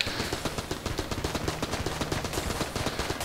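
Rapid AK-47 automatic fire in the Enter the Gungeon video game, a fast, steady stream of sharp repeated shots, close and loud, with no gaps.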